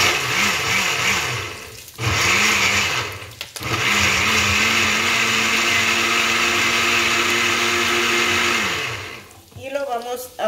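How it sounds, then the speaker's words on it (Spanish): A kitchen blender grinds cumin for a pork stew sauce, a loud, close, whirring motor that stops briefly twice, then runs steadily before winding down at the end. "Y lo molemos en nuestra licuadora"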